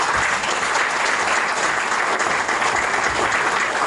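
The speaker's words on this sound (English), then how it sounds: "shall we rise to applaud that wonderful, impactful, insightful, and experiential speech?" Audience at an investiture ceremony for a branch chairman and executive committee applauds after a speech, a steady, dense wash of clapping that fills the whole stretch without a break.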